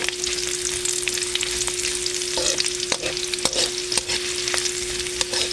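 Chopped onions sauté in a hot pan for sinampalukang manok, a steady dense sizzle broken by several sharp scraping stirs and clanks of a spatula, close and fairly loud, with no talking.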